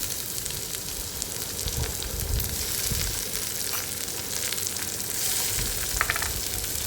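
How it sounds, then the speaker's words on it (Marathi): Chopped onion and finely cut tomato fry in a pan for masala brinjal curry, a dense, close sizzle running throughout with occasional stirring clatter and crackle. "कांदा टोमॅटो मस्त परतून घ्यायचा आहे"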